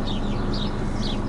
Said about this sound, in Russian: Птички, слышите, как?